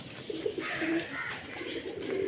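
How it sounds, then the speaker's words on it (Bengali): White pigeons coo in short, soft throaty phrases, a few close calls repeated at intervals over a quiet background, with no talking. "খুব সুন্দর পায়রাগুলো সাদা সাদা"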